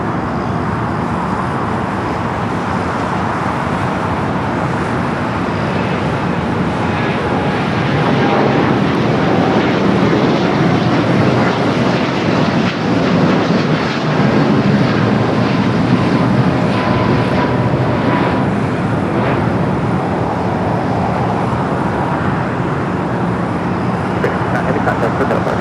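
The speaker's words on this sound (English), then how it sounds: "The last Japan Airlines flight of the day. The Dreamliner now rolling down at 25 right." A Japan Airlines Boeing Dreamliner rolls down runway 25 right at Los Angeles International Airport, a steady broadband jet roar that swells in the middle and stays loud throughout.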